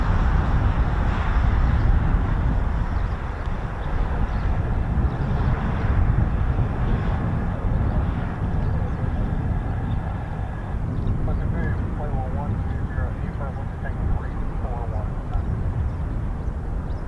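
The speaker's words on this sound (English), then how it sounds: "Sounds like an F-15." An F-15 fighter jet roars as a broad, loud, steady rumble that continues for the whole stretch, with people talking faintly underneath.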